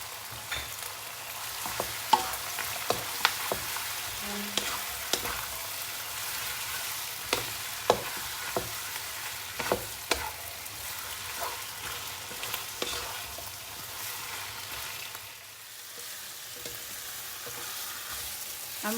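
Beef for a black pepper stir fry fries in a pan, a steady sizzle running throughout with repeated clacks and scrapes of stirring, close and clear with no voices.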